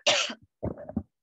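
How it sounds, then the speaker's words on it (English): A single harsh cough bursts out close and loud, followed by a shorter throat-clearing cough sound after a brief pause, in a quiet indoor setting. "with my cough."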